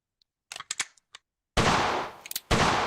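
A Chiappa Rhino 60DS WOG gas airsoft revolver: a few soft mechanical clicks, then two loud, sharp close shots about a second apart, each with a brief decaying hiss.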